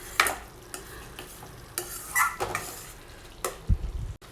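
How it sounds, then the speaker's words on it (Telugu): A spoon clinks and scrapes in a pan as tomato paste fries in oil for a ridge gourd masala curry, with a few separate stirring strokes over a faint sizzle, close and fairly quiet. "చూడండి ఆల్మోస్ట్ టమాటా ప్యూరీ అంతా కూడా ఫ్రై అయింది కదా"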